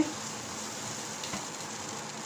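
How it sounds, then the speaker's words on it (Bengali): Sandwich batter sizzles softly and steadily in a frying pan, faint and even throughout. "আমি এখন ফ্রাই প্যানে ব্যাটারটা দিয়ে দিচ্ছি"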